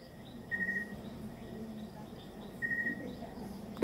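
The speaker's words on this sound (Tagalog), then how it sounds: "yung tunog po talaga ganito yan dito sa bahay po. Kuliglig." Crickets chirp at night around a house in the provinces, two clear trills standing out over a faint, steady insect background.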